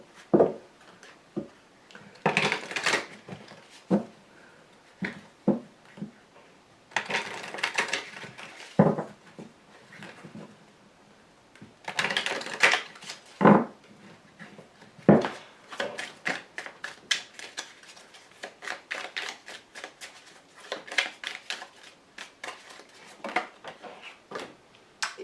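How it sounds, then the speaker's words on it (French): Tarot cards being shuffled, handled and laid down on a table: a series of close, brisk papery slaps and soft riffling bursts, irregular at first and then a quick run of light taps, with no one speaking. "je rajoute 3 petites cartes dessus"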